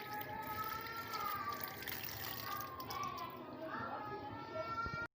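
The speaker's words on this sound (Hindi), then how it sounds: "इसके ऊपर से आप हल्का सा ठंडा पानी गुजार दें ताकि ये जुड़ ना जाए आपस में" Cold water runs over strained noodles in a colander in a home kitchen, a steady splashing pour under someone speaking Hindi, cutting off abruptly at the end.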